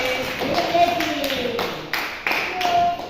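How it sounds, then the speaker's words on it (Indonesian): Scattered clapping from a small group at a school in Indonesia, with irregular taps, partly under voices talking. "tepuk tangan kita bersama"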